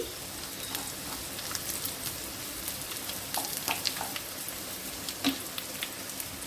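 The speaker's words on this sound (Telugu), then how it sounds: "కాకరకాయ కొంచెం ఫ్రై అయినాక ఈ పోపు గింజలు అనేవి మధ్యలోకి యాడ్ చేయండి అవే వేగుతాయి" Tempering seeds fry in oil alongside bitter gourd, a steady close sizzle with scattered pops and crackles running throughout, no voices.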